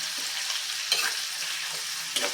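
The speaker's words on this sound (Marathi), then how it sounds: "हा कांदा घालतीय आणि छानपैकी आपल्याला ना सोनेरी रंगावरती हा कांदा छानपैकी परतून घ्यायचा आहे" Chopped onion frying over medium heat in a pan for a fresh green peas curry, giving a dense, continuous close sizzle with a couple of brief stirring scrapes.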